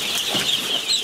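Young Orpington, Brahma and Cochin chicks on a breeding farm give high, thin, overlapping peeps and cheeps, close and steady over a short stretch, with no voices.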